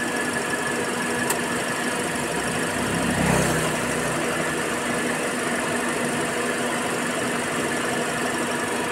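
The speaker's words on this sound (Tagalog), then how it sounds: "kita natin yung engine fan na malakas naman siya" Engine fan of a dual VVT-i Toyota Vios with an overheating problem, running strong with a steady, loud whirring rush over the engine's continuous hum, a faint squeal riding on top, close-up and constant throughout.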